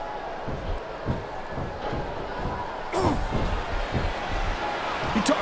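Arena crowd noise from the wrestling video game WWE SmackDown vs Raw 2007, a steady roar with rhythmic thuds and a louder surge of cheering midway, heard beneath a commentator talking.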